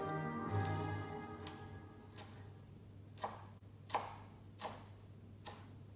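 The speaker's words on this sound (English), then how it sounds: "I'm gonna chop up a little parsley" A knife chopping parsley on a cutting board, about five sharp separate knocks spaced roughly a second apart over a low steady kitchen hum, close and fairly quiet.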